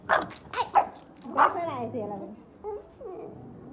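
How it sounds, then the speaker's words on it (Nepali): A dog barks several times in quick, sharp bursts nearby, followed by softer whiny sounds and voices. "के हाम्रो मामा घरको कुकुर यो चाहिँ"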